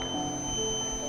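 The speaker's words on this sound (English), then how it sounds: "So if it comes closer to the fuel tanker, the beep sound will be produced." An Arduino ultrasonic-sensor proximity alarm on a model fuel tanker gives a faint, steady, high electronic tone that holds throughout over a low background hum.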